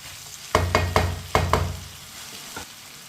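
Beans frying in a pan and stirred with a spoon: five sharp metallic scrapes in quick succession, then a lighter one, over a faint sizzle, close and alone.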